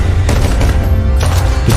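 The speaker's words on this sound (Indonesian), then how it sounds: "kembali melanjutkan baku tembak dengan kelompok musuh" Gunfire from a film battle scene inside a building, with a steady dense fusillade and several louder broadband bursts, loud and continuous with a low booming rumble beneath.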